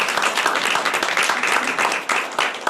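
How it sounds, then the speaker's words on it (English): An audience claps for speakers taking the stage at a Superstellar Friday evening event at the McAuliffe-Shepard Discovery Center, dense steady applause close and loud, with a few brief dips near the end. "How about a round of applause?"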